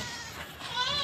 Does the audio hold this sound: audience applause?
no